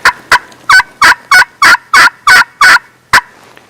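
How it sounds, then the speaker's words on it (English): A black anodized aluminum AnoHen turkey call runs a steady series of about ten loud, evenly spaced hen yelps, close and alone with no voices. "the black anodized aluminum, the AnoHen, makes a unique sound."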